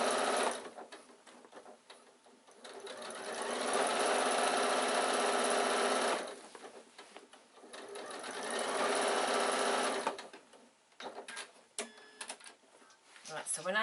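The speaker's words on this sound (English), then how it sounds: "And then sew right down to the other side." A sewing machine stitches a baby bag, running in two long loud whirring bursts several seconds each, followed by short stop-start runs and quiet gaps, close by with some talk around it.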